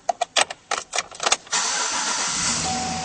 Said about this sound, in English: start it up for us so you can hear the motor.